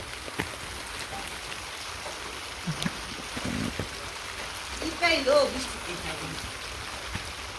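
Rain falling in a village during outdoor cooking, a steady soft patter on surfaces throughout, with brief voices and small knocks breaking through near the middle.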